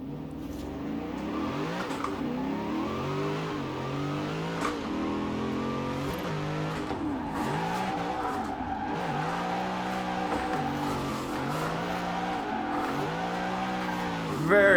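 A car in the Forza Horizon 4 racing game speeds down a hill, its engine revving and shifting through gears continuously with tire squeal, loud and sustained throughout, with a voice talking over it at times.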